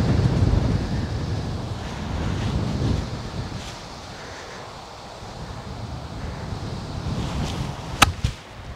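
Strong wind buffets the microphone on an open golf course in 25 mph gusts, a steady loud roar with rushing surges, and a sharp brief club-on-ball strike near the end.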